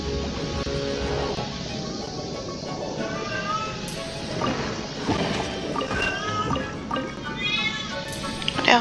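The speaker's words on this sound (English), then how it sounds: "That's my cat." A pet cat in heat meows and yowls repeatedly, with drawn-out wavering cries rising over a dense, noisy game soundtrack, moderately loud and fairly close.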